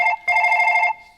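A telephone rings close by with a bright electronic trill, a short burst followed by a longer one before it fades, and no voices over it.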